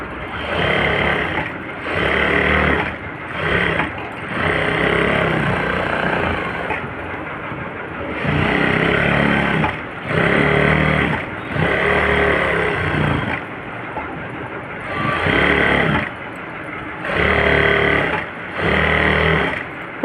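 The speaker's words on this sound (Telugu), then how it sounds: "ఇప్పుడు చుట్టూ కూడా ఒక అంగుళం వెడల్పు ఉంచుకొని రౌండ్గా స్టిచ్ వేసేసుకుంటే రెడీమేడ్ గలేబీ" Sewing machine stitching around the edge of a pillow cover, running in repeated loud, rattling bursts of a few seconds each, separated by short pauses, up close with no talking.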